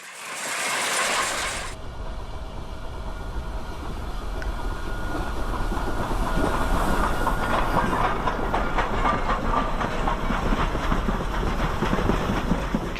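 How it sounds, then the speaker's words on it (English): The Durango and Silverton coal-fired steam train rolls along in a steady mechanical rumble with rhythmic clatter from the cars, after a brief hiss at the start. "the next best thing was the Durango and Silverton coal-fired locomotive"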